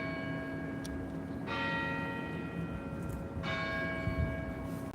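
A church clock tower rings chimes, two strong ringing strikes that each decay slowly, heard from a distance over constant outdoor background noise.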